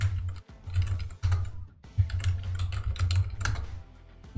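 Steady, close typing on a computer keyboard while a password is entered at a Check Point gateway command-line shell, with rapid clustered keystrokes broken by a few short pauses.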